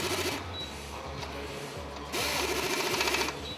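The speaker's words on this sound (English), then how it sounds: "The operator starts tightening and the tool stops every time the correct torque is reached." A YOKOTA torque-controlled tool tightens joints on a product assembly line, giving a steady close mechanical whir and rattle that grows louder partway through, with no talk.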